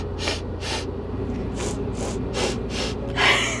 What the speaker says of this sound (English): It's like a sniffing symphony.